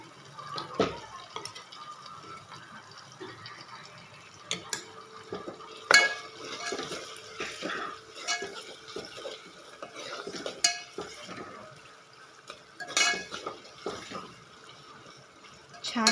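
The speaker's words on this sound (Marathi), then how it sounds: "छान असं परतून घ्यायचं" Ginger-garlic paste sautéing in oil in a pan: irregular spoon scrapes and clinks against the pan over a soft background sizzle, close by with quiet gaps between strokes.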